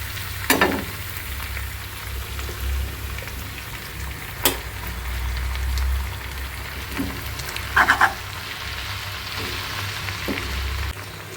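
Jute leaves frying with browned onions in a pan, a steady low sizzle with a few sharp clatters of utensil against the pan, and no one speaking.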